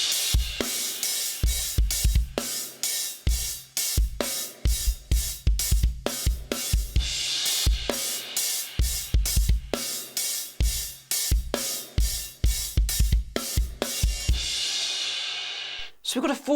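Drum kit playing the rocking pre-chorus groove of a song: steady quarter-note cymbal with punchy kick and snare hits repeating in a four-bar pattern, loud and close, ending abruptly.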